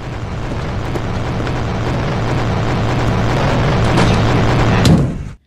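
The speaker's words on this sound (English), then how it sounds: "Once you hear this roaring sound, I'll play it for you." A long, deep rumbling roar of a monster from the video game Five Nights with Froggy 2, loud and sustained with a low droning core, swelling near the end before cutting off abruptly.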